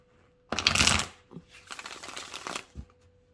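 Tarot cards being shuffled for a reading, one dense riffling burst followed by a longer, softer stretch of shuffling and a final soft tap, close and alone.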